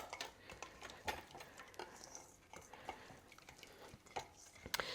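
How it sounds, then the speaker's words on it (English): A whisk beats a paprika dressing in a bowl, producing quiet, irregular metallic ticks and clinks that repeat in a loose rhythm, close and alone. "we are going to whisk this together"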